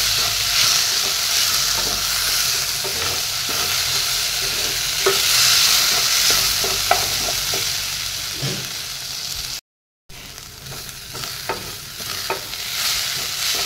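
Lentils with salt and turmeric fry and get stirred in a pan, a steady close sizzle with scattered scraping and clinking of the spoon throughout, briefly cutting out near the end.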